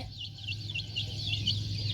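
Chickens clucking at close range on a farm, a run of quick repeated clucks over a low steady hum, with no voices.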